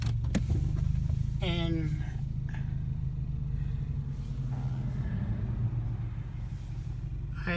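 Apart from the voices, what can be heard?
car driving past a vacant lot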